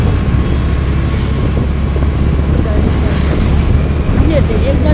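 Honda Dio scooter being ridden on a road, a steady engine hum blended with continuous wind rush against the microphone, with people talking over it.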